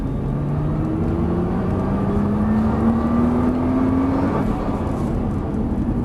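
Nissan GTR accelerating nearby, a loud continuous engine drone with its pitch climbing steadily for several seconds.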